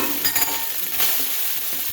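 Cloves, cardamom and cinnamon fry in ghee in a pan for chicken biryani, making a dense, steady, close sizzle with a few faint stirring scrapes.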